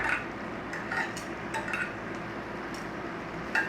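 Sausages with thin, splitting skins browning in a pot for a toad-in-the-hole pie, with soft steady frying and occasional clinks of a utensil against the pot, fairly quiet and without talk.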